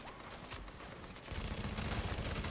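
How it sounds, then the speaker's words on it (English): Rapid gunfire from The Division on Pier 93 against a shield-carrying rebel, a dense stream of shots that grows louder and heavier halfway through and stays sustained to the end. "and then I'm gonna shoot him right in the foot"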